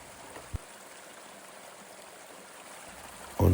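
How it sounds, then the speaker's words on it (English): A small creek flows past the ski hut on Mt. Baldy, a soft continuous wash of running water heard at a distance, with a faint knock early on and a brief louder rustle at the end. "After the ski hut, there's a small creek that usually has water all the way until October"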